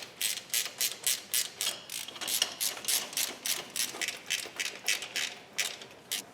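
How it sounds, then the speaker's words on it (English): A ratchet wrench drives 10mm bolts into the intake manifold of a Jeep 4.0 engine: a close, rapid series of crisp clicking bursts in a steady back-and-forth rhythm, with no talk over it. "then we can thread in the 3 10mm bolts"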